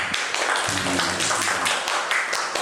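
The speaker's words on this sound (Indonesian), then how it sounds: "Tepuk tangan untuk teman-teman." Clapping from a gathered audience of staff at a health centre accreditation event, a dense, moderately loud patter of many hands with scattered sharper taps.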